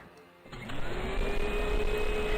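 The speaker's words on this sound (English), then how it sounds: "that vacuum cleaner, it is awful" Vacuum cleaner in the SpongeBob flash cooking game Cook It 'N' Book It: after a quiet half second, a loud, steady mechanical whir kicks in and holds, with a thin whine slowly rising over it.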